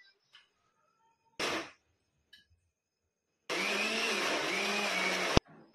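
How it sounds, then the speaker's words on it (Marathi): Roasted masala ground in a mixer grinder jar: a short burst of whirring, a pause, then a longer, steady grinding run of about two seconds that cuts off sharply, all close and alone in a quiet room. "आता भाजलेला मसाला कुटून घेऊयात मिक्सरच्या जार मध्ये."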